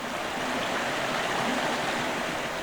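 A creek in gold-prospecting country near Ophir, New South Wales flows steadily near a tunnel mouth, giving a constant broadband rush of running water with no talk over it.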